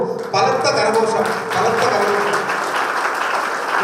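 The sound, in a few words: applause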